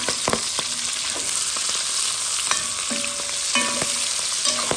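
Onions fry in hot oil for a Réunion boucané with peas, a close, steady sizzle and crackle punctuated by clinking stirs of a utensil against the pot, with no talk.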